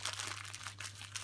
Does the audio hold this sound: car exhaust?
no